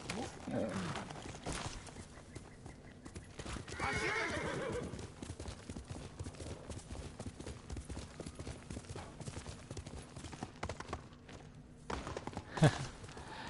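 A horse in the samurai game Ghost of Tsushima gallops with rhythmic hoofbeats and lets out a clear whinny, while someone talks over the steady clip-clop.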